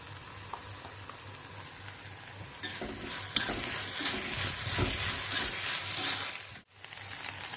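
Onion and capsicum fry in a pan with a steady sizzle, and a louder stretch of stirring scrapes and crackle joins partway through. The sound is close, with no talk.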